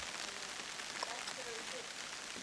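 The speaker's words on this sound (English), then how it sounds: "First rain we've seen since we've been here." Steady rain falls in an Australian rainforest, a soft continuous hiss of drops on surfaces at low level, with a few faint bird-like chirps in the background.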